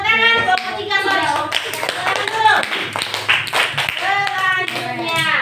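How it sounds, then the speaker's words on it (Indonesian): A classroom group claps their hands together in a lively round of applause, the dense patter of many hands mixing with children's and adults' voices talking over it. "Tepuk tangan."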